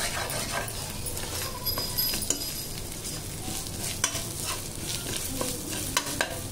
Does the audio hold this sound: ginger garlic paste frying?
yes